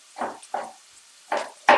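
Finely chopped vegetables for a tofu and vegetable lasagne sizzling in a pan, heard as four short bursts of crackling hiss with quiet gaps between, close and fairly loud.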